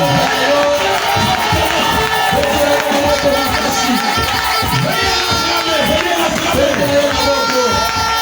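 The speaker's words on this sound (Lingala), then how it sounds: "Si réellement Jésus est ressuscité dans votre vie, venez l'acclamer." A church congregation at an Easter service cheers and acclaims together, a dense, loud wall of voices with shouts and whoops that holds steady the whole time.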